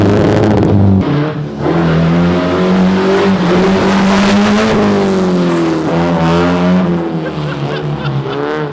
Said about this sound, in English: Tires are dead and the parking lot's wet. Hit the corner again, Jim.